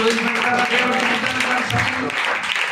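Steady clapping from a congregation at a church memorial service, running continuously beneath raised voices.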